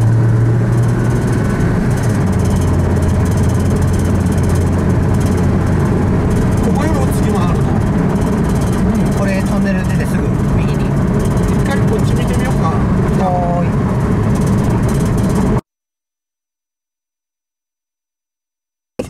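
Car cruising slowly along a scenic dam road, a steady low engine and road rumble inside the cabin under people chatting, cutting to silence near the end.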